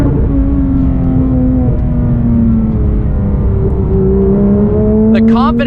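A 2019 Porsche GT3 RS engine drones loud and steady from inside the car, its pitch stepping down through quick downshifts with blips near the end, while a voice talks over it.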